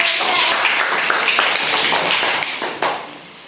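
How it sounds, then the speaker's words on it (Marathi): Schoolchildren in a classroom clap together in a dense, loud burst of applause that fades out near the end. "याच्यासाठी सगळ्यांनी टाळ्या"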